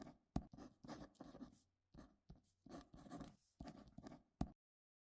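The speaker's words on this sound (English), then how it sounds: "Let's write that down." A pen writes down vital signs in a quiet emergency room roleplay, with short scratchy strokes in bursts and pauses, close and soft, with no talk.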